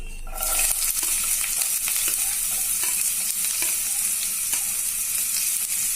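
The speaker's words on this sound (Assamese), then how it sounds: "মোৰ এয়া তেল গৰম হ'ল, মই এতিয়া পিয়াজ দিম ইয়াত।" Sliced onions hit hot oil in a pan with a sudden loud sizzle, then a steady bright frying hiss continues with occasional scraping stirs for several seconds, with no talking.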